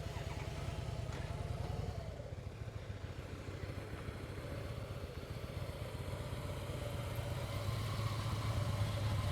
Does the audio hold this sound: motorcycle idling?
yes